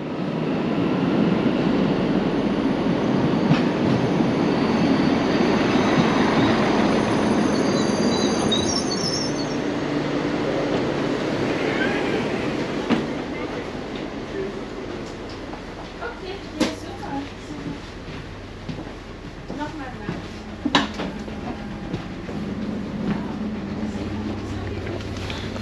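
Steady rumble of a moving train in Germany, loud and continuous, with occasional clacks and squeaks from the wheels and carriage.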